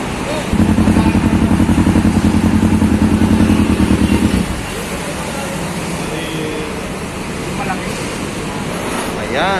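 A motorcycle engine revs hard for several seconds with a steady, throbbing rumble, then drops back to idle against wind and outdoor noise.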